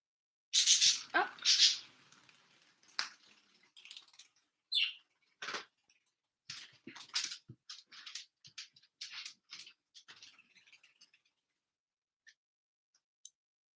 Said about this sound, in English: my birds are flying around